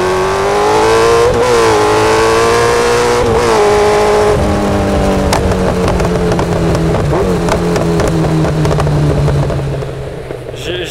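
Kawasaki Z900 motorcycle with a full exhaust revs loud and close, its engine note rising and falling in steady sweeps and holding a rough, throbbing idle between revs, with no other sounds over it.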